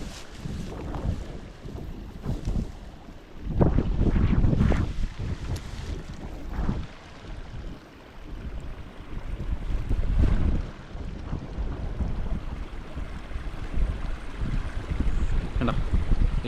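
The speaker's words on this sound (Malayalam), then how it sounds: "ഭയങ്കര കാറ്റാട്ടോ" Strong wind buffeting a small traditional fishing boat in Kerala, loud gusty microphone roar that swells and eases in surges, with faint water sounds beneath and no talk.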